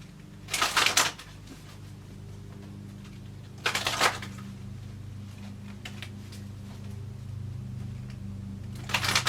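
A deck of cards being shuffled, three separate brisk riffling bursts spaced apart, close and fairly quiet over a low steady room hum.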